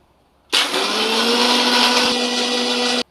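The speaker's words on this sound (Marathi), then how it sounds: "आता आपण याला मिक्सरला फिरवून घेऊया" A mixer grinder blends fruit juice for a summer lemonade drink, a loud steady whirring roar that starts abruptly, runs continuously for about two and a half seconds, then cuts off, with no talk.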